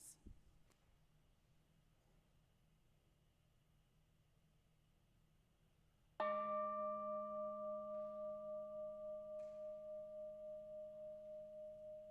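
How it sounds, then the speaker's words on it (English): A single bell is struck once during a worship service after a faint, near-silent stretch, ringing out clearly with a long, slowly pulsing decay that lingers for several seconds. "as I ring our bell and let the sound connect us"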